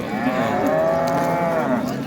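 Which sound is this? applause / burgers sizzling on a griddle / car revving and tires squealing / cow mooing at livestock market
cow mooing at livestock market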